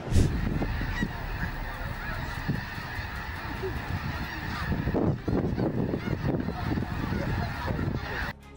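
A large flock of migratory geese honks continuously, many overlapping calls forming a dense, steady chorus at moderate distance, with occasional sharper honks standing out.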